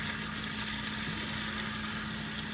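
BBQ chicken stir fry with sauce being mixed in a hot pan gives a steady, moderately faint sizzling hiss that carries on without a break.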